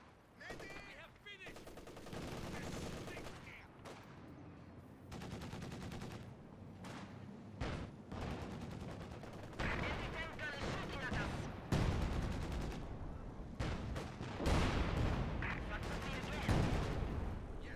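Artillery barrage and gunfire from a World War II strategy video game ring out in dense, loud bursts of booming impacts and rattling shots that swell and overlap continuously, with a voice talking faintly underneath.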